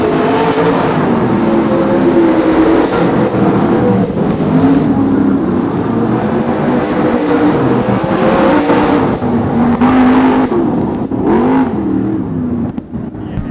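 Several race cars roar around a track during a stock-car feature race, with loud, continuous engines rising and falling as they rev and pass, close and dominant throughout.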